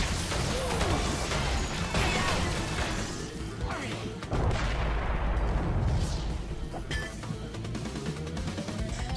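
Dense bursts of game explosions and zapping laser shots crash over one another in a loud, constant barrage, from Crash Bandicoot Warped (N. Sane Trilogy), Mech Mayhem level.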